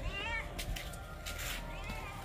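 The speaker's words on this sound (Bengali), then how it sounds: "এটা ম্যাও ম্যাও করা শুরু করে দিয়েছে" A house cat meows repeatedly at close range in a home, with a few drawn-out cries under quiet background talk.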